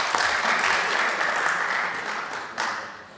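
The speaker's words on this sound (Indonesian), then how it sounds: "Kasih tepuk tangan dulu untuk institusi kita." Applause fills a parliamentary meeting room, a broad, steady wash of many hands clapping near and loud, thinning slightly toward the end with a brief renewed burst.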